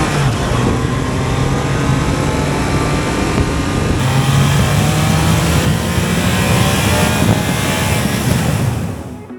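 A Triumph Trident 660 three-cylinder motorcycle engine accelerates hard and pulls cleanly, its loud, close exhaust note climbing steadily in pitch over about nine seconds with no talking.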